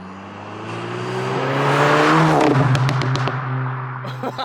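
A Stage 2 VW Mk7 GTI with an EQT tune driving in sport mode, loud and close, its exhaust swelling as it accelerates, then crackling with a rapid run of pops and burbles as the throttle lifts.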